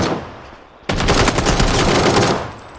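Rapid burst of video game gunfire from a heavy weapon, dense and loud for nearly two seconds after a quieter stretch of background game sound, with no talk over it.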